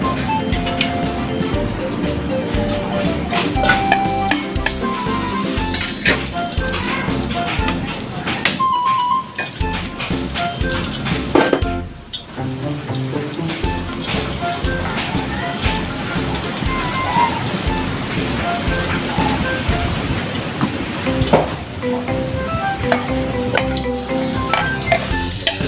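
Onion, garlic and ginger sautéing in a pan, a steady crackling sizzle with clatter and stirring throughout, close and fairly loud.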